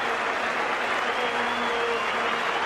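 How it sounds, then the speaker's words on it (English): Cricket crowd at a one-day international between Australia and India applauds steadily in a standing ovation for a batsman, a dense, even wash of clapping throughout with no clear voices. "is receiving a wonderful standing ovation"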